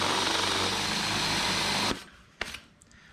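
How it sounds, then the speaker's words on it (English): A power drill runs steadily while boring holes in the body of a 1977 Datsun 620 pickup, a loud continuous whine that cuts off abruptly partway through, followed by a couple of faint knocks. "We're gonna drill our holes."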